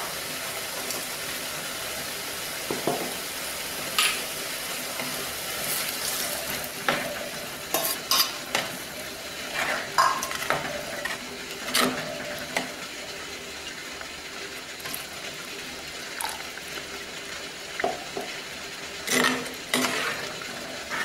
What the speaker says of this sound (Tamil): இப்போ நம்ம எடுத்து வச்சிருக்க இந்த பருப்பை வந்து கரைச்சி ஊற்ற போகிறோம்